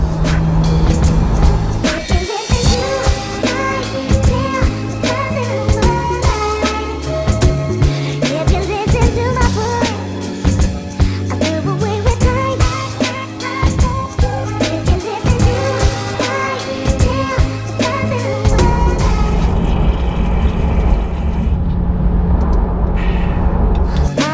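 A Porsche GT3 drives toward central London, its engine note loud and close throughout, with gear changes and surges in revs over steady road noise before it eases off near the end.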